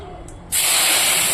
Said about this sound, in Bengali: এবার আমি ডালটাকে ঢেলে দেবো